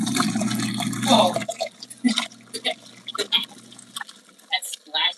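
Water churns and splashes inside an LG ThinQ MEGA Ultimate front-loading washer running a Tide Evo tile load, a wet rushing fill giving way to scattered drips and sloshes while a person talks over it.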